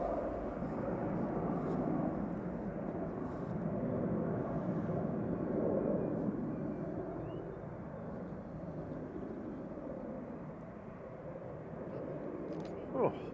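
An airliner departing Manchester Airport for Faro gives a broad, moderately distant jet roar that holds steady and slowly fades, with faint background noise near the end.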